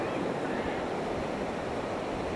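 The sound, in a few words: wind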